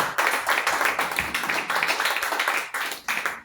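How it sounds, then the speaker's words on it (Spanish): A church congregation claps loudly and steadily for Jesus during a service, with many hands beating in a continuous, rhythmic wash of applause, close and full throughout. "Dale palmas a Jesús. Fuerte, fuerte."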